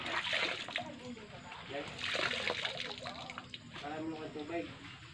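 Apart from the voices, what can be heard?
rinsing laundry by hand in water, splashing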